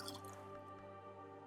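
Water drips quietly in the video game Book of Hours, one faint soft drip with a light squishy splash against a sustained tonal background.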